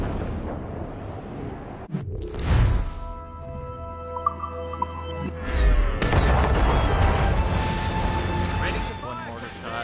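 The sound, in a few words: mortar shot fired from a ship in Assassin's Creed Rogue video game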